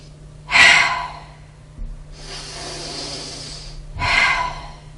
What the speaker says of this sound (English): when you're breathing in, let me show you, incorrect is like this